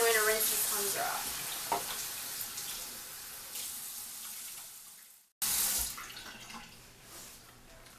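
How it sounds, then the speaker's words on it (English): A tap runs water into a bathroom sink as cleanser is rinsed off a face. The flow is a steady close hiss that fades slightly, stops briefly, then surges again. "Just rinse that off, and then I'm going to rinse this cleanser off."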